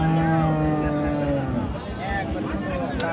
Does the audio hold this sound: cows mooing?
yes